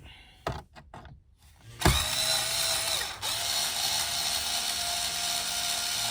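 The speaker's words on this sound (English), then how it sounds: "we can put that on our electric drill here" A few brief mechanical clicks, then a power drill whirs steadily for several seconds removing screws from the radio head unit of a 2014 GMC Sierra, close and continuous with a slight hitch midway.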